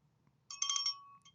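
A phone ringtone sounds once, a brief bright electronic melody lasting about half a second, followed by a short faint blip against near silence.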